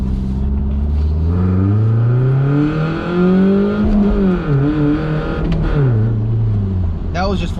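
A naturally aspirated four-cylinder car with a manual gearbox pulls away from a light, close engine revs climbing steadily, dipping through gear changes, loud and continuous.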